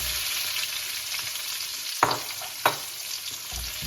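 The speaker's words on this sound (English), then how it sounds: "Coat that pan again. We're going to add our red pepper and onion." Red pepper and onion frying in an oiled pan for a beef stir fry, a continuous close sizzle broken by two sharp scraping stirs.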